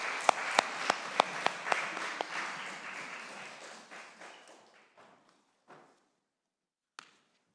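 Congregation applause during a Sunday worship service at an air force base church. Sharp individual claps ring over a wash of clapping that gradually fades, ending in a few scattered, isolated claps in a reverberant hall.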